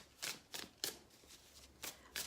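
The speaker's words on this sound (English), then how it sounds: "I don't know why I'm being asked to shuffle the cards." Tarot cards being shuffled by hand: five or six quick, quiet papery riffles in an irregular rhythm, close by and alone.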